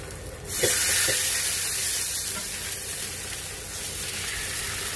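A birria taco dipped in consommé hits a hot griddle with a sudden loud sizzle that stays close and steady, slowly easing off over a few seconds, no talking.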